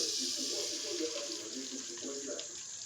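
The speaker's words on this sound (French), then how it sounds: "je vais verser mon huile rouge" Red palm oil is poured into a dry cooking pot in a home kitchen, making a steady, continuous, close pouring hiss that runs through the whole moment.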